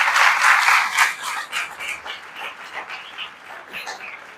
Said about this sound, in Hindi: हम खुदा के कलाम के लिए जोरदार तालियां बजाएंगे।